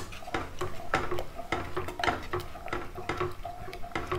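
A spoon stirs bottle gourd milk kootu in a metal pan, making repeated close clinks and scrapes against the pan at an uneven rhythm with wet stirring noise between the knocks.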